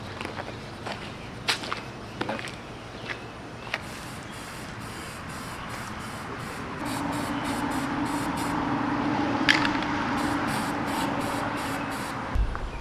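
A spray paint can coats a custom intake part for an OBS truck. Scattered clicks and knocks come first, then a sustained hiss of spray builds and holds for several seconds nearby.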